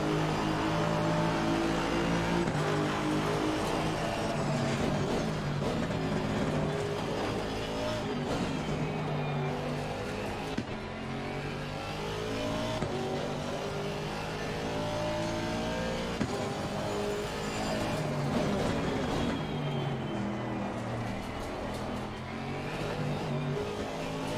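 A GT3 race car engine at Misano in Assetto Corsa Competizione roars loudly and without a break, climbing and dropping through the revs as it shifts gears, with a faint hint of tyre noise and no voices.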